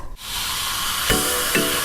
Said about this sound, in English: Yes, that's the sound of Sprite's authentic flavor.